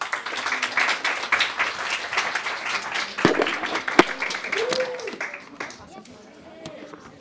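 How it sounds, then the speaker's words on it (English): An audience applauds a team after a capstone project presentation, a burst of mixed clapping that swells early, then thins into scattered claps. Voices and brief talk can be heard beneath it. "Let's give them a round of applause."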